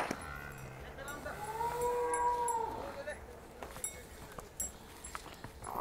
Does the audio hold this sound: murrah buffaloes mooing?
yes